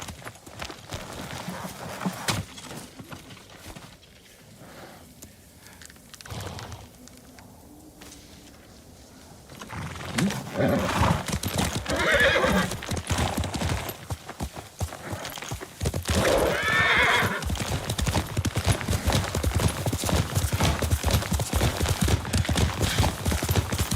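In the video game Ghost of Tsushima, a horse's hooves clip-clop steadily, with a neigh in the mix and birds chirping around it, growing louder and busier midway.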